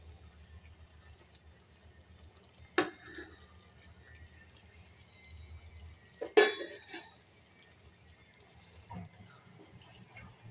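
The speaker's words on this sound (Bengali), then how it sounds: "আমি এখন মাংসটা এর উপরে ঢেলে দিব" Cooked beef seasoned with dried chili is poured over rice for homemade beef tehari, giving two sharp clanks of a pot or utensil with a brief wet slop between long stretches of quiet background hum.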